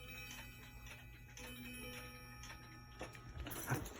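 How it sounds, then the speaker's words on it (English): A wall clock ticks steadily and faintly in a quiet room, keeping an even rhythm with a brief louder rustle near the end. "I fucking told you I got a haunted clock"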